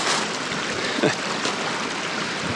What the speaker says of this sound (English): it's really unsettling to hear all the water running underneath me